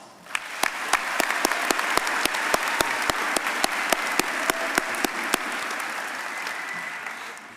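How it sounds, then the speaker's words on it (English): Applause rises from the audience at a high school graduation ceremony, a full, sustained round with a loud nearby clapper keeping a regular beat through most of it before the clapping tapers off. "let's give one more round of applause"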